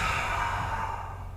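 A long, soft exhale during a forward-bending yoga hip stretch, a breathy sigh heard up close that fades gradually, with no talking.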